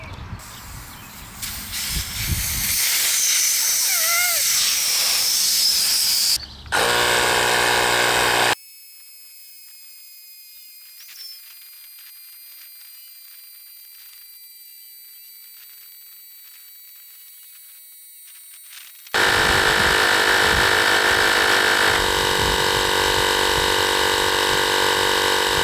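A battery-powered portable air compressor pumps up a tire, running with a loud, steady buzzing hiss, then dropping to a quieter tonal whine for a stretch before the loud running resumes.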